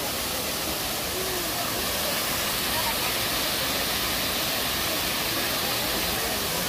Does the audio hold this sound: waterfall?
yes